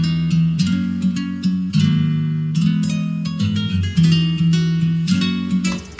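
A dry-sounding afrobeat electric guitar melody plays plucked single-note phrases in a bouncy, syncopated rhythm, close and clear, processed with an RC20 Mono 3 preset, no voices.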